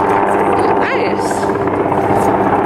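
A helicopter flies overhead in Atlanta, its steady loud rotor drone filling the whole moment, with a faint voice underneath.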